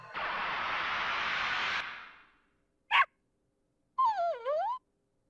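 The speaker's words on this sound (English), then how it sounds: "Oh, look at the puppy." Cerberus, a monster dog in the video game Legend of Dragoon, a burst of hissing noise followed by a sharp single bark and a wavering whining yelp, all in game audio.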